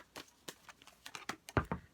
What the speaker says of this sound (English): I'm just going to give it a little bit more of a shuffle